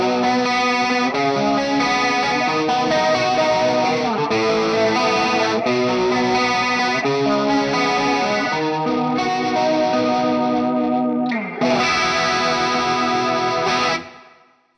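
Distorted electric guitar with humbucker pickups running through a Collateral FX Demoiselle chorus pedal, all knobs at noon, strumming sustained chords steadily and loudly, with a brief break near the end before a final ringing chord that cuts off.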